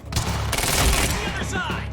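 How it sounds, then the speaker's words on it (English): Enemy gunfire from Monarch forces in the action game Quantum Break, a dense, loud burst of rapid automatic shots and impacts that fill the scene, with a voice speaking briefly over the din. "Why the hell is Monarch firing at us?"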